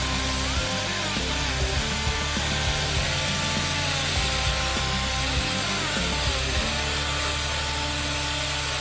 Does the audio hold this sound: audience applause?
no